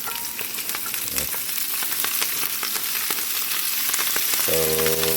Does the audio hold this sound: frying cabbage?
yes